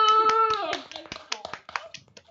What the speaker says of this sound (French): à 3, on applaudit Didi